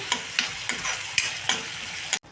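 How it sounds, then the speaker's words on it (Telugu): Ginger garlic coconut paste with turmeric sizzles and fries in a pan, a spoon scraping and stirring it in repeated strokes over a steady hiss, close and alone before the sound cuts off at the end. "ఇది మొత్తాన్ని మిక్స్ చేసేసుకోండి ఇది కొంచెం వేగాలి"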